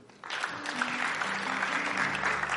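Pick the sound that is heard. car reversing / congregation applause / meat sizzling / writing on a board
congregation applause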